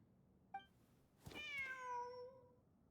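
A single drawn-out cat meow from Genshin Impact, rising then gliding down with clear harmonics, preceded by a brief soft chirp; it sounds alone and fairly close, with no talk over it.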